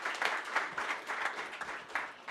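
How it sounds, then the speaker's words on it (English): Short burst of audience applause at a talk event, steady, fairly quiet clapping from a moderate crowd, heard alone. "big round of applause"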